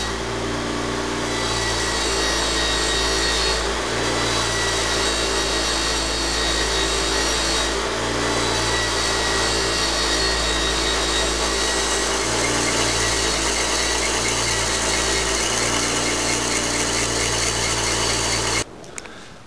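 A metal-cutting machine takes a cut of about 20 thousandths on a connecting rod during narrowing. It gives a loud, steady, continuous machining whine and rumble with a slight periodic pulse, and it stops abruptly near the end.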